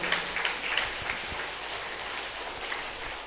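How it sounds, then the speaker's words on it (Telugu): Audience at a music meditation gathering applauding, a steady wash of many hands clapping, moderately loud and fairly even, with no clear voices. "వాణి మేడంకి ఒకసారి గట్టిగా చప్పట్లు కొడదాం"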